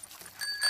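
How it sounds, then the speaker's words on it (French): Cartoon bicycle bell on a pig family's bike, a short bright ring of metallic tones at moderate level, with faint background sound and no talk. "Et ici, la sonnette."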